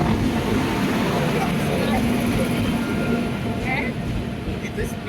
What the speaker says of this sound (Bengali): এই দেখো ট্রেন চলে এসছে